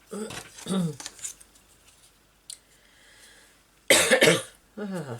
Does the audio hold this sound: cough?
yes